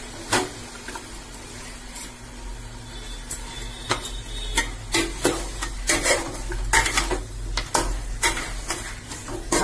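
Mutton is mixed by hand with chili powder and spices in a metal pot, giving irregular clinks, scrapes and knocks over a soft background hum, close and moderately quiet.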